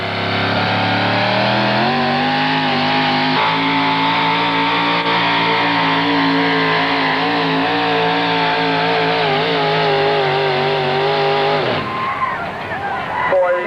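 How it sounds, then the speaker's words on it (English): A Chevrolet four-wheel-drive pulling truck roars at full throttle during an NTPA truck pull in Galax, Virginia, in 2001. The loud, steady engine climbs in pitch for about twelve seconds, then cuts off abruptly. "Out of Winchester, Virginia, the Three Bears Chevrolet team, Scott Smith behind the wheel."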